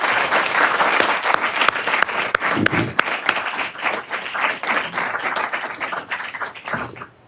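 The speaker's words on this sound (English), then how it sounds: "So a big round of applause for those folks." A conference audience gives a full round of applause at the closing session of a scientific workshop, with loud, continuous clapping and a few sharp individual claps that taper off near the end.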